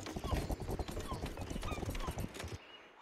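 Two armoured horses pulling a chariot in the video game Rustler clip-clop in a quick, continuous trot of close hoofbeats that cuts off abruptly near the end.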